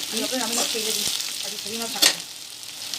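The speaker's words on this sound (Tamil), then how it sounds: "இப்போ வெங்காயம் நல்லா வதங்கிச்சு." Onions sizzle and fry in a pan while being sautéed for upma, a steady crackling hiss with stirring scrapes throughout and a brief louder clatter near the end, under a short spoken word.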